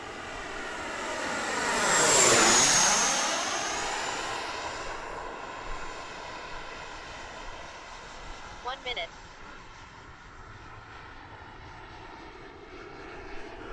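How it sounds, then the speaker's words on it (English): An FMS F-86 RC model jet makes a slow flyby, its turbine-like whine swelling as it approaches, peaking overhead, then fading and dopplering away into a steady distant hum. "I'll do one slow flyby to make sure we got our gear sorted out"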